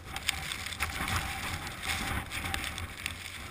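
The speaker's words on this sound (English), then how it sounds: "And there's that wind I was talking about." Wind gusts across a ski slope, producing a rough, fluctuating rumble of microphone buffeting with hissing surges over a few seconds, loud and close.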